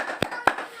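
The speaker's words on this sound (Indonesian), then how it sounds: "Tepuk semangat dua." Children clap in a classroom cheer, two sharp, separate hand claps about a quarter second apart, close and crisp, with no voices between them.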